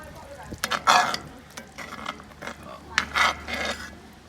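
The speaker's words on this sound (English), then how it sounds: "Let's give it a little stir." Satay beef being stirred in a Dutch oven over charcoal briquettes: a few scraping, clattering strokes of a utensil against the pot with faint sizzling between them, close and moderately quiet.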